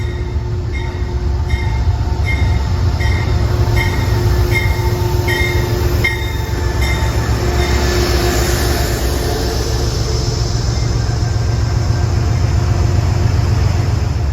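A Metro-North commuter train bound for Poughkeepsie rolls steadily through Harlem 125th Street station, a loud continuous rumble with wheel squeal and tonal hums early on, heard up close without speech.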